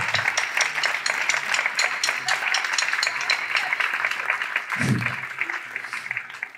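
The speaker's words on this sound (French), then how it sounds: "On peut les applaudir bien fort." Dense, sustained audience applause at a complete musical show, a loud continuous wash of clapping that holds steady and then tapers slightly near the end.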